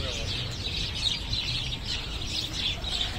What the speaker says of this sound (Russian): тут идет какое-то бурное птичье обсуждение